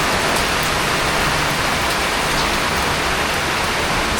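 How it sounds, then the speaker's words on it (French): Heavy tropical rain pouring down, a dense, loud, unbroken hiss of water hitting surfaces close by with no voices. "C'est n'importe quoi les pluies tropicales."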